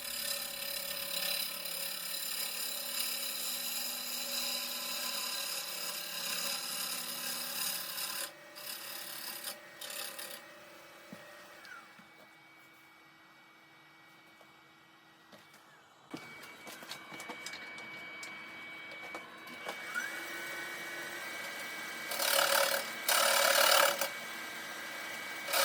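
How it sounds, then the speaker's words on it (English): A 1/2 inch detail gouge cuts slowly against a branch burl vase spinning on a wood lathe, giving a faint, continuous rasping hiss with a few sharper scraping bursts near the end. "This is a 1/2 inch detail gouge. And I'll use this to get a really good surface, just going very slow"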